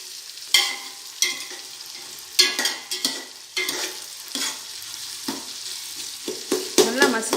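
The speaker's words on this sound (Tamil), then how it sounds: "இது இப்போ தக்காளி வந்து கண்ணுக்கே தெரியக்கூடாதுங்க, அந்த அளவுக்கு நம்ம நல்லா மசிச்சிடணும்" Tomatoes are stirred, mashed and fried in a pan for chicken biryani, with repeated scraping strokes and bursts of sizzling at an irregular rhythm, close and fairly loud, no talk.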